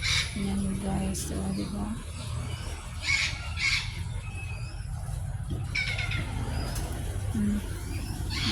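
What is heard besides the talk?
birds calling among flowering plants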